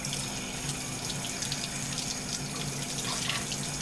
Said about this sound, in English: now we're going to put it under cold water.